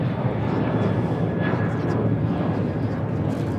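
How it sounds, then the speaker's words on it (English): An American Airlines Boeing 737-800 takes off at LAX bound for Chicago O'Hare, a steady, broad engine roar holding level throughout with a faint whine above it and a hint of voices underneath. "This is American Airlines Flight 613 taking off to Chicago O'Hare on a 737-800."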